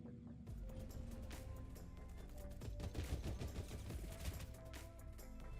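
Gunfire volleys in the Warside turn-based strategy game, with repeated crackling shots over a continuous bed of game music, growing denser midway before easing slightly.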